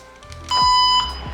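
A sharp electronic beep sounds once, high and steady, with a brief low rumble around it and no speech.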